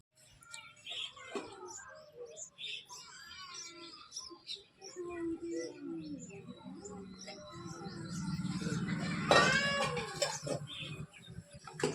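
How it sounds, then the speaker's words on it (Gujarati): Three sparrow chicks in a nest give thin, high chirps and squeaks in scattered bursts that build into a louder cluster near the end, with faint background rustling. "ચલો હું તમને બતાવું ચકલીબેનના 3 બચ્ચા"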